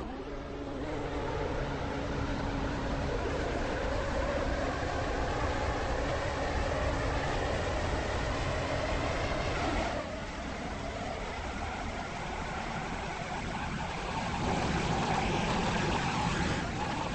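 On board a passenger train on a waterline service to Greenslade, a steady loud rumble and roar of the carriage in motion, with rhythmic rail clatter and a brief dip in noise partway through, no talk.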